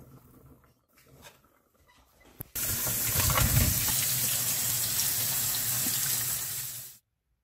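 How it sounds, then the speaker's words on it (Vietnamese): Boiled pork ribs rinsed under a kitchen tap: after a few soft clinks and handling sounds, water gushes loudly and steadily from the faucet into the sink for several seconds, then stops abruptly. "các bạn có thể lấy ra xả nước thật nhiều lần cho thật sạch"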